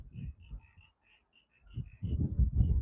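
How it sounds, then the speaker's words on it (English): Frogs croak near a lake by the old Lithgow blast furnace, a pulsing chorus of low throaty croaks in two clustered bursts with higher chirping calls scattered between. "And listen to the frogs."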